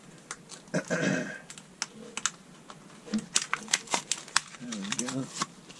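Packaging of a Zippo Heatbank 9s rechargeable hand warmer is opened, with close crinkling, rustling and scattered sharp clicks and taps over several seconds, while a voice talks intermittently.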